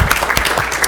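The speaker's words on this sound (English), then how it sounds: "just big round of applause for these amazing teachers that work so hard" A brief, loud burst of audience applause for teachers at a school district board meeting, dense and continuous through the short moment.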